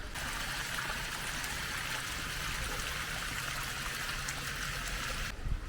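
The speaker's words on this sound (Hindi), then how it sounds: "सामने से पानी आ रहा है गर्म गर्म" Hot spring water flows steadily from under a hillside on the route to Gangotri, a continuous soft rushing trickle, even and fairly faint, with no voices, cutting off abruptly at the very end.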